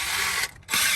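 Ratchet clicking in quick bursts while loosening 10mm valve cover bolts on a 1990-and-up Mazda Miata, a short pause breaking the close, bright pawl chatter.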